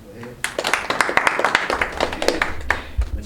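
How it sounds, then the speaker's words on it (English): An indoor audience at a talk on managing money claps, with a dense patter of many hands lasting a few seconds while a voice speaks over the applause. "Can you clap for her?"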